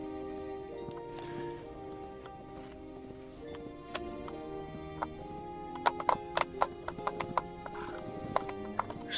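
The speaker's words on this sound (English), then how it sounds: "Still can't get the horse in here." A horse in the video game Hytale: hooves clopping in a quickening run of sharp, close hits, with a neigh or whinny and some wet, squishy footfalls over a droning game background.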